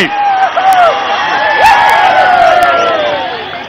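Large outdoor political rally crowd at a Maha Sankalpa Sabha in Andhra Pradesh cheering loudly, a dense sustained roar of shouts and whoops filling the air close by.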